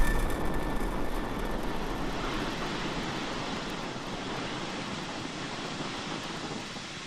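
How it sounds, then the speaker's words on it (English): Deep continuous roar from a SpaceX Falcon 9 rocket climbing after liftoff from Vandenberg Space Force Base, a broad distant rumble that stays steady and slowly eases, with no voices. "And liftoff of Falcon 9"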